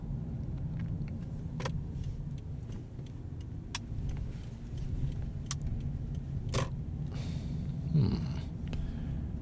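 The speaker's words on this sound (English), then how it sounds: "I've never seen so many cars in my life in this area." Road traffic heard from inside a moving vehicle on a drive toward New London, Connecticut: a steady low rumble of tires and engine with occasional passing-car swells and small cabin rattles, no talk.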